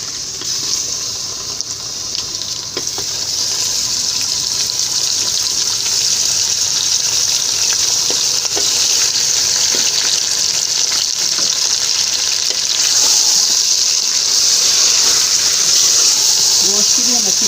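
Mutton sizzles and fries steadily in a karahi for hara masala karahi, a loud continuous hiss with occasional stirring scrapes, rising slightly in intensity partway through.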